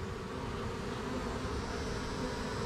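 Honeybees from a hive cut-out hum steadily and continuously as the comb is lifted, a close, dense drone with no voices.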